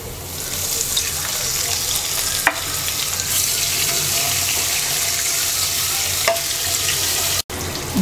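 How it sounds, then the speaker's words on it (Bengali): Water is poured into a pan of fried garlic, a loud continuous hiss and bubbling with a couple of sharp clanks from a utensil, close-up and without talk. "রসুন ভাজা হয়ে গেছে, এবার অল্প একটু পানি দিয়ে দিচ্ছি।"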